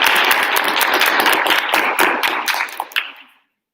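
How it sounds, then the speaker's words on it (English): A class applauds during a live-streamed debate on arming teachers, with several people clapping close by in a steady, moderately loud burst that thins into a few scattered claps and then stops. "claps, claps, claps"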